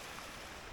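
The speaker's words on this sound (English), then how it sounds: "I'm going to sleep very well tonight with the sound of this water trickling down." A constant, soft rush of running water, like a small stream flowing steadily nearby, with no other sounds.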